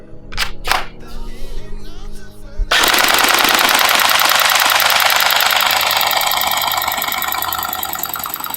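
An RX AKM47 gel blaster loaded with hardened gel balls fires a full magazine in one rapid, continuous, loud burst of shots, preceded by a few clicks and handling noises.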